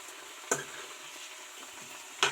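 Coriander chutney stirred in a frying pan, a soft steady sizzle with two sharp scrapes of the spoon against the pan, close and quiet with no talking.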